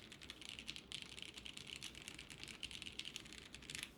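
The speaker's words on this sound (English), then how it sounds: "let's do a typing test" Rapid mechanical keyboard typing, a steady stream of crisp clicky keystrokes close up, with no voices.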